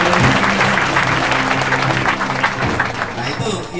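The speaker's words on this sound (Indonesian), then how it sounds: "Tepuk tangan untuk beliau." Audience applause at a study-visit gathering, steady dense clapping from a crowd, loud and sustained throughout with some voices mixed in.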